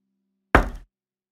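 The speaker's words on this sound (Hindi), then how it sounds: "कोई दरवाजा खटखटा रहा था।" A single firm knock on a door, close and clear, a short dull thump that dies away quickly in otherwise silent surroundings.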